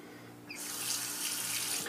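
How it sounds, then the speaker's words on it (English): A dense, steady rasping hiss of a razor blade cutting through whiskers, close and continuous after a brief quieter start, with no talking. "You can really hear the blade going through the whiskers"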